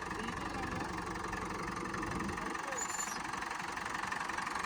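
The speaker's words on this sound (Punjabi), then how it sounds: "ਤੇ ਇਮਾ ਇਨਲਾਈਨ ਦਾ ਪੰਪ ਲੱਗਿਆ ਬਾਈ ਜੀ ਤੇ ਚਾਰ ਸਿਲੰਡਰ ਇੰਜਣ ਆ ਟਰਬੋ ਲੱਗੀ ਹੋਈ ਆ" A John Deere tractor refitted with a JCB four-cylinder turbo engine and an inline pump idles close by. The engine gives a steady, even rumble with a rough knocking texture and no change in pace.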